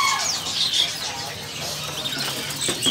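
Short high chirps from a promo loper canary for sale in a bird shop come in a few brief bursts over a noisy room background, fairly faint and close.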